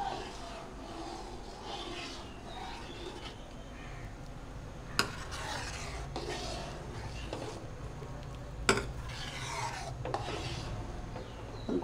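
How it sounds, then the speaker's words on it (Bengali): Spoon scraping and stirring spiced Gobindobhog rice khichuri in a pot, a continuous close rasping with a few sharper knocks against the pot, over a steady low background. "নাড়াচাড়া দিতে হবে, আর নয়তো নিচটা লেগে যাবে।"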